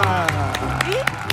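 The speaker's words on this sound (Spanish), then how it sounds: "Fuerte el aplauso para Valeria Lima." On a Spanish-language comedy talk show, a studio audience claps for an arriving guest, quick sharp claps under loud music and a talking host.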